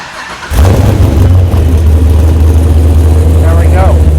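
A fuel-injected 1965 Corvette restomod fires up after a short crank and settles into a loud, close, deep rumbling idle that holds steady.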